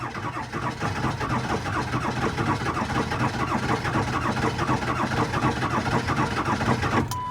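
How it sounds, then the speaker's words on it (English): A 7.3 Powerstroke diesel truck engine cranks over continuously with a rough, rhythmic chugging, never quite catching, close and steady throughout. "This thing is just rough to start."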